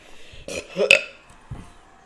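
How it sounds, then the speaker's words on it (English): A short burp or two from a man, brief and close, surrounded by casual talk. "Were you burping in Lowe's?"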